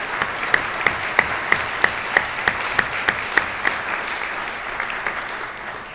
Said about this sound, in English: So first, I'd like to give them a round of applause.